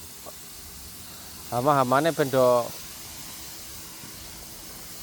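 A pesticide sprayer hisses steadily while spraying durian trees in an orchard, a continuous broad wash of noise throughout with someone speaking over it briefly in the middle.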